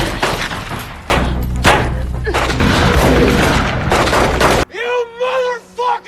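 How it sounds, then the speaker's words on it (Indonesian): A burst of gunfire shootout sound effects, heavy booming shots and thuds packed together for about four and a half seconds, then a sharp cutoff into a short stretch of shouting voices. "Terjadilah aksi tembak-tembakan di antara mereka."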